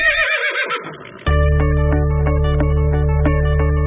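A horse whinnies loudly and close for about a second, its wavering cry fading into a steady sustained tone that continues to the end.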